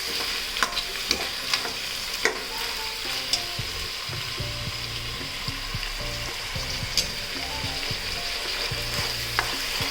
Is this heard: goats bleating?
no